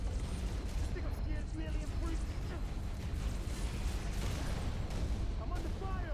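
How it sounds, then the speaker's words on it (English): Gunfire in the Halo video game, with dense, continuous booming and rattling shots under steady game noise, near and loud throughout. "I'm under fire."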